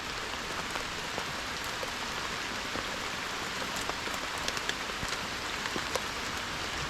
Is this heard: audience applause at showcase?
no